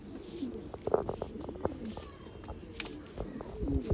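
Pigeons of an old line tournament breed coo in a loft, soft throaty repeated coos close by, mixed with chirps and light movement while people talk nearby.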